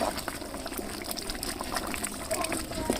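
Rice boiling in a pot for chicken biryani, a soft continuous bubbling and simmering, quiet and close with small pops and hiss throughout.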